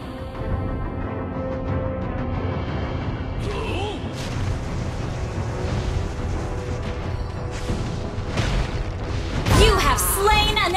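Turret destruction explosion in the Mobile Legends video game: a deep booming blast near the end, heard over a dense bed of game music and effects, with an announcer-style voice in the mix.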